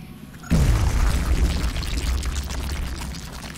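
A sudden heavy boom of gunfire from a gunner in the XCOM Long War video game, a loud close blast followed by a rumbling, slowly fading tail.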